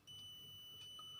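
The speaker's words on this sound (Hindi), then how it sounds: "आपको बीप का साउंड सुनाई दे रहा है" A multimeter in continuity mode beeps while testing an inductor transformer from an LED bulb circuit, giving one faint, steady high tone that runs the whole moment against low background noise.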